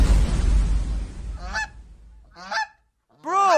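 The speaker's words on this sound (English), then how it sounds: "The goose!" An animated goose honks three times in quick succession, with loud rushing noise before the first honk and a brief silence before the last, strongest call.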